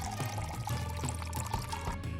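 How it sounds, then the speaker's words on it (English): Hot water poured over dried apricots and raisins in a bowl, a steady close pour with a continuous watery splash throughout, no talking. "Cover dried apricots with hot water"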